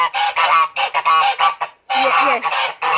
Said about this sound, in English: Here is the naughty geese, Bonnie, Barley and Bumble.